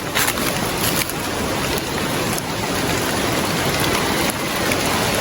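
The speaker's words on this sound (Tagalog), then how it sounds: "nabutan tayo ng ulan dito" Steady heavy rain pours down, a dense continuous hiss of drops drumming on surfaces, with no voices.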